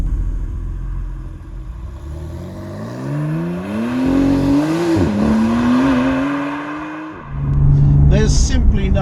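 A Porsche 991 GTS engine in Sport Plus with the exhaust valves open, driven with manual paddle shifts, rising in a steady loud growl through the revs, then a quick shift and a deeper rumble, with a voice talking over it.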